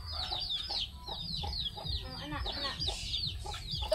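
Chickens clucking in a rural Philippine province yard, busy overlapping clucks and calls from several birds close by, with low background noise beneath.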